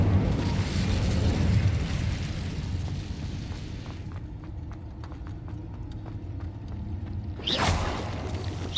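The Incendio fire spell cast in Hogwarts Legacy: a loud, dense whooshing roar that fades into a lighter crackle with a run of quick rhythmic taps, then a sharp bright burst near the end.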